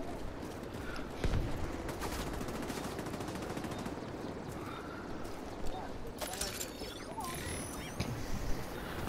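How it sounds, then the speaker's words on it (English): Gunfire in The Division 2's Dark Zone, rapid automatic bursts with sharp shots popping at a moderate distance over busy game background noise. "I'm shooting them."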